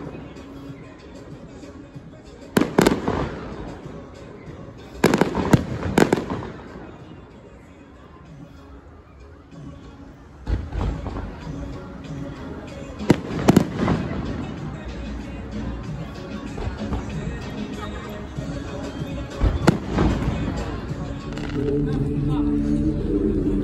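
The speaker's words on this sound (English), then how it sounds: "So it sounds like gunshots going on, honestly, with the fireworks." Fireworks booming in the distance at FirstEnergy Stadium after a Reading Phillies baseball game, several sharp bangs and crackling bursts spread out, with crowd chatter and voices throughout.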